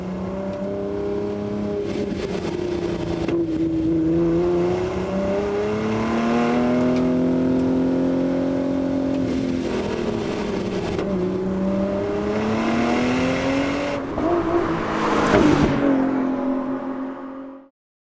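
A sports car engine revved hard, a loud close tone climbing and falling in long sustained sweeps, then a final surge and cutoff, with no talk.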